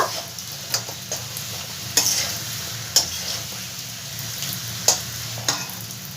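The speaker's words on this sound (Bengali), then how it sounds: "এবার এর মধ্যে ভেজে রাখা মাছের মাথাগুলো আমি সব দিয়ে দেবো একটু ভালো করে মশলার সঙ্গে একটু কষিয়ে নেব" Fried fish heads being stir-fried with spices in a pan, a steady sizzle broken by several distinct spatula clacks and scrapes at irregular intervals, close and fairly loud, no talking.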